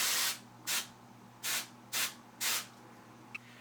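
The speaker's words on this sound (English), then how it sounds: "and then we're just simply going to spray." Aerosol root touch-up spray applied to hair from a can held about six inches away, giving five short, close hissing bursts with brief quiet gaps between them.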